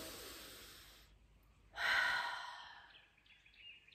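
One breath drawn in close up after a round of tapping, a soft airy intake swelling then fading, preceded by a faint exhale and followed by quiet.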